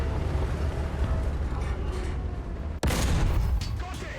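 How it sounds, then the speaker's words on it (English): Booming artillery fire in War Thunder, a dense, continuous rumbling barrage with a sharp blast cut in near the three-second mark, loud and close throughout. "The artillery is on the position."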